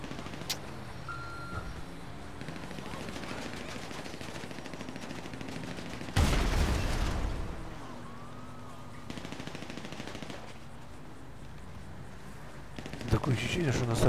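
Scattered bursts of machine gun, pistol and automatic rifle fire crackle in GTA Online over a steady engine-like drone, with one loud volley in the middle and another near the end.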